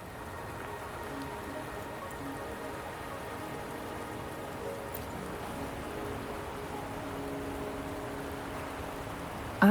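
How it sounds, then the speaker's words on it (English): Steady rain in the Wuthering Waves video game, a soft, even hiss of drops pattering on surfaces that holds at a constant low level throughout, with no voices. "Are you trapped here by the rain?"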